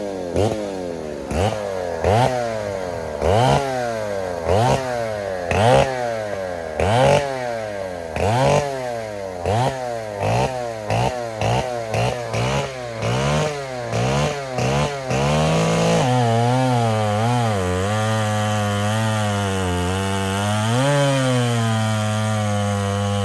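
A vintage chainsaw cuts wood at a saw competition: a loud, close engine rising and falling through about fifteen seconds of rapid revving strokes, then settling into a steady sustained roar.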